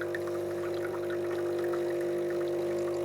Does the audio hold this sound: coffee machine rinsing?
yes